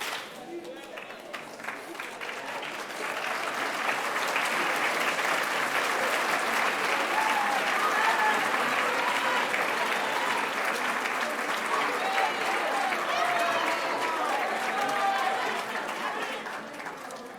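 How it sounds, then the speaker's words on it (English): An audience applauds at a middle school awards night, with steady sustained clapping that fills the whole stretch and a faint background murmur of talk. "How about another round of applause for this fine group?"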